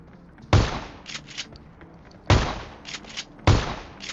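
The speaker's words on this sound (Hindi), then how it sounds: "अब जैसे मैंने इसमें 2 शॉट कनेक्ट किया, तीसरा भी कनेक्ट किया" Three loud, sharp shotgun blasts ring out in a video game, each one sudden and booming with a short fading tail. They land irregularly, with a long pause after the first and a shorter gap before the third.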